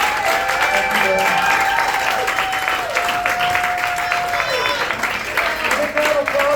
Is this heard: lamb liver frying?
no